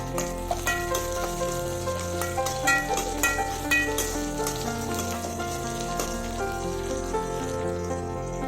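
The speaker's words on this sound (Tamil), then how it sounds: "கருவேப்பிலை சேர்த்து நல்லா வதக்குங்க." Curry leaves sautéing in an oil-filled pan for sambar rice, a steady close sizzle and crackle with occasional sharp pops and stirring scrapes, continuous throughout with no talking.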